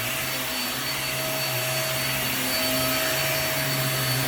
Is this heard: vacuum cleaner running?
yes